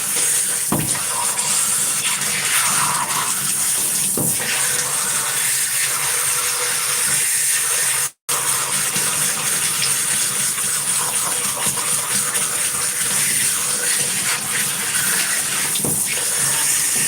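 Shower water running continuously in a bathroom, a steady broadband hiss with a few soft knocks and one brief dropout midway, no voices.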